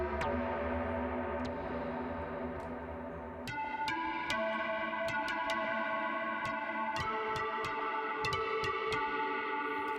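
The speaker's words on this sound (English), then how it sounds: "One of those is my lead synth. It sounds like this." An Ableton Operator lead synth drenched in heavy reverb plays a melodic line of sharp, plucky notes with long shimmering tails. Steady and fairly loud throughout, with no voices.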